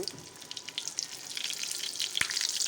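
Kebabs frying in oil in a home kitchen, a steady close crackling sizzle with dense fine pops throughout and a sharp louder spit near the end, no voices.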